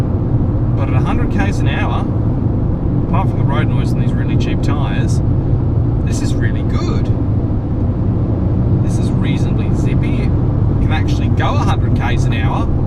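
Road and tyre noise inside a Fiat 500 Pop Dualogic cruising at 100 km/h in fifth gear on cheap tyres, a steady loud low rumble throughout, with someone talking over it in several bursts.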